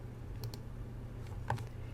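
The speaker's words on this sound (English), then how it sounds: "I'm going to press B on the keyboard" A computer keyboard's B key is pressed, giving a couple of quick, faint clicks followed by another light tap in a quiet room.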